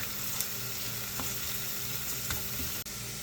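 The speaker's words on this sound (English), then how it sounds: "I have a medium onion cooking in the other half of a stick of butter" Onions and mushrooms sizzling in half a stick of butter, a dense, steady crackling sizzle with a few faint stir clicks, close and even, no talk.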